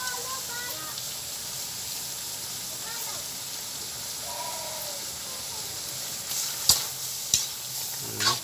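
Jackfruit cooking in coconut milk being stirred, a steady close sizzle and bubbling hiss with a few sharp spoon knocks against the pot toward the end.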